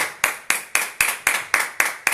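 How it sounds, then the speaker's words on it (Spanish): A church congregation claps in unison, about nine sharp, evenly spaced beats at roughly four per second, close and crisp with no voices over them. "Denle un aplauso al Señor."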